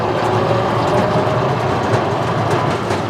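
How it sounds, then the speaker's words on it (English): Steel cargo bed of a 2023 Landmaster EV 4WD utility vehicle rattling on the move, a constant dense clatter and jangle close by with no voices. "this model has a steel bed in the back, so you're gonna hear some of that noise from that bed rattling around"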